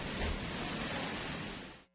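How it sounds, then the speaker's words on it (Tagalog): Large storm-surge waves from a super typhoon pound the shore of Catanduanes, a loud continuous roar of surf and wind that fades out abruptly at the end. "Kita sa video ang malalaking alon na tumama sa dalampasigan ng Catanduanes"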